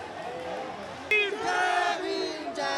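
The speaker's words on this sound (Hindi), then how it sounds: "बहुत भीड़ है सर, बहुत भीड़ है।" A huge crowd of protesters shouts and roars during a clash with police at Connaught Place, with tear gas shells being fired; a dense, loud wall of overlapping voices continues throughout, swelling sharply partway through.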